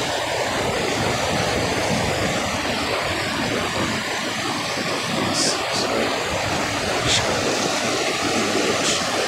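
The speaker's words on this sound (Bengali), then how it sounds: "এই চ্যানেল দিয়েই কিন্তু পানিগুলো যাচ্ছে।" River water rushing through the channels of the Roshikpur sluice gate on the Bhairab River, a loud, steady roar of churning flow with no pauses.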